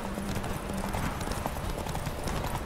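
Horse hooves clip-clop at a steady, rapid galloping rhythm in The Witcher 3 during a horse race, loud and close throughout, with no talking.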